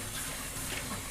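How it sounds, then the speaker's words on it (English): Running water rinsing leftover chicken-wing sauce out of a bowl, a steady close-up wash of water with no pauses. "I like to take the bowl and rinse it out, get rid of this sauce that's in here"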